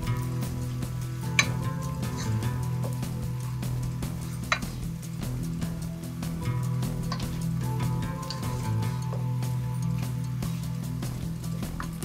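Chicken for Mexican fajita rice cooking in a pan, a low steady sizzle over a constant hum, with occasional ticks and clinks of utensils against the pan.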